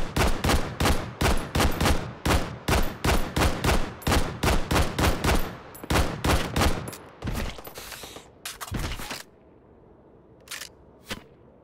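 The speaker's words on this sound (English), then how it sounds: "Shooting at me." Gunfire from the VR shooter game Hot Dogs, Horseshoes & Hand Grenades: a long rapid string of loud, evenly spaced shots, then a ragged burst and a few scattered single shots trailing off into quiet.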